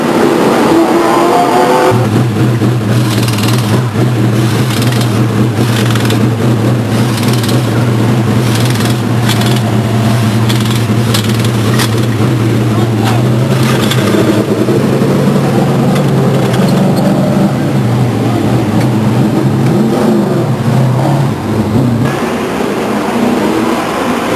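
Race car engines roar at Stockton 99 Speedway, a loud sustained low drone that builds as the pack accelerates, with rising revs and overlapping cars passing close by for over twenty seconds.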